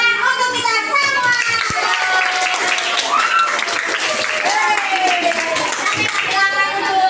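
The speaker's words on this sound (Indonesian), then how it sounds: "Tepuk tangan untuk kita semua." Elementary school pupils clap together in a classroom for several seconds, loud and close, while children's voices chatter and call out over the clapping.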